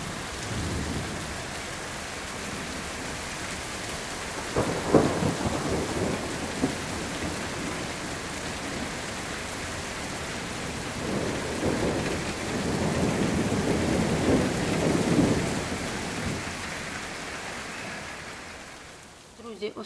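Steady rain falls continuously with a hissing wash, swelling louder at moments, with distant rumbles beneath.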